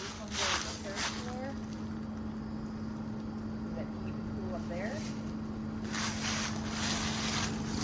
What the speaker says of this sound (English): My first time seeing a heat pump in heat mode.